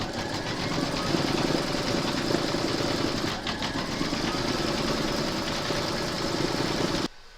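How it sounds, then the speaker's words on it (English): An embroidery machine stitches down appliqué fabric held in a hoop, a steady rapid mechanical whirring and needle chatter running continuously at close range, then cutting off abruptly near the end. "Pop your hoop into your machine and stitch round number 4 to secure your fabrics."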